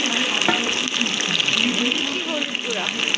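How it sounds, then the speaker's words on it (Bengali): Ginger garlic paste sizzles steadily in hot oil in a pan, a close, continuous frying hiss that holds for the whole stretch as a lump of shrimp-and-jackfruit-seed curry base cooks. "এখন এর ভিতরে দিয়ে দিচ্ছি আদা রসুন বাটা"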